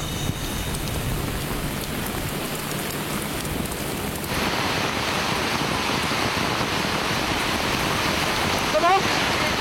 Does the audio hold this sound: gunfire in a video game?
no